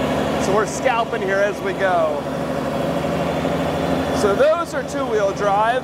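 A tractor in two-wheel drive runs with a steady, laboring engine drone while scalping the ground through tight turns, and someone talks over the engine throughout.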